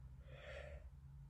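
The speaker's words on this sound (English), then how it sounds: "I don't know why I'm yawning so much." A single drawn-out yawn, a breathy inhale rising and fading over about a second, close and quiet, with no words.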